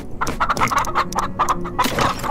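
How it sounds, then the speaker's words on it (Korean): Chickens cluck in the Farm Together farming video game, a busy run of short, loud, choppy clucks and squawks in quick irregular succession with no talking. "닭 하나 더"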